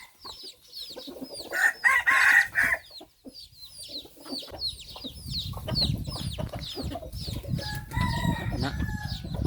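Chickens clucking and roosters crowing repeatedly, a busy farmyard chorus of young and old decoy fighting chickens, several birds close by and others farther off, steady low rumble underneath, in the evening.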